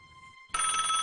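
Telephone in an animated cartoon, a faint electronic tone giving way abruptly to a loud, bright trilling ring that fills the rest of the brief moment, with no voices.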